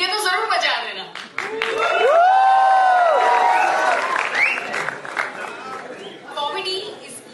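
Audience at a stand-up comedy show at Comics for Change applauds and murmurs in a broad, steady wash of clapping and crowd noise, mixed with cheers and voices, swelling in the middle and thinning toward the end.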